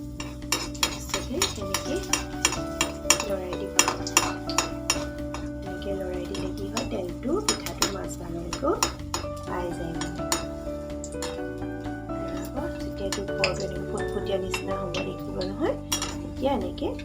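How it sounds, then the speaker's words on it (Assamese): Assamese ghila pitha frying in oil while being stirred, heard mostly as frequent metallic clinks and scrapes of a utensil against the pan, with a faint sizzle beneath. "এনেদৰে তেলত দি দিব। তাৰপিছতে তেনেকৈ লৰাই দিব।"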